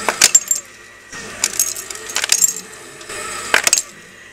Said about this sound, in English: gonna show you the sound that is coming from this ice